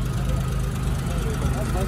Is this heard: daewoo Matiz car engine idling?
yes